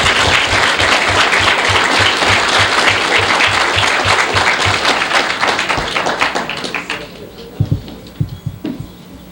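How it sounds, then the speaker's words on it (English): A crowd claps loudly and steadily at a retirement celebration, the dense applause thinning over several seconds into a few scattered claps and thumps near the end. "Let's have a round of applause for Guy Valvano's grandchildren"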